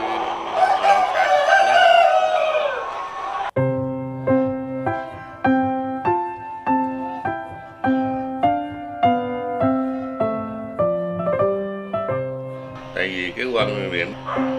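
Gò Công roosters crow in a repeated series of bright, rhythmic calls, loud and close, with hens clucking; a voice speaks at the start and end.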